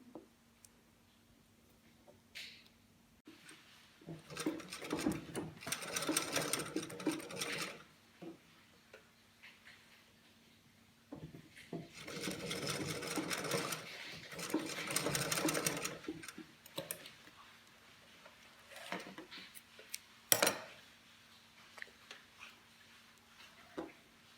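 A sewing machine runs two long straight-stitch bursts across hidden bias tape at a garment neckline, a steady close rattling whir, stopping between runs, with a sharp click near the end.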